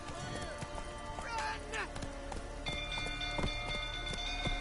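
Roach the horse gallops in a video game, a rhythmic clip-clop of hooves running steadily throughout, mixed with game music and other effects.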